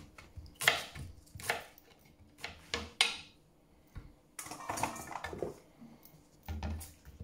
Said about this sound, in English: I'm cutting veg on a meat board.